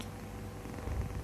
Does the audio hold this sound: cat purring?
yes